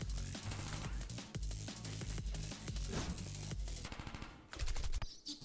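Gunfire in the Henry Stickman video game comes as dense, loud bursts of rapid shots with booming low thumps, continuous over several seconds, with no talk over it.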